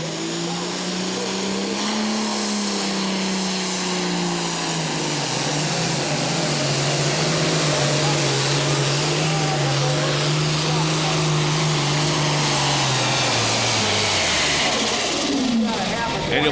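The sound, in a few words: Massey super farm tractor at a tractor pull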